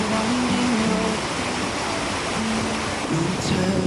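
Steady broadband rush of a waterfall along the Great Ocean Road, constant and fairly loud, with faint voices or tonal murmurs drifting over it.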